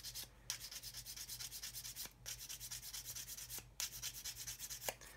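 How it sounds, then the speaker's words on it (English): Quiet, rhythmic rasping of a hard sanding stick rubbed back and forth on a plastic 1/32 scale model kit part, close up, with a few brief pauses between stroke runs. "And then again, using this hard sanding stick"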